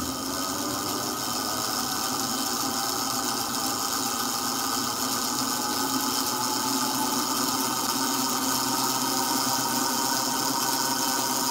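A generator spun at about 500 RPM gives a steady, continuous mechanical whir and hum with an even drone throughout, loud and close, with no talk over it.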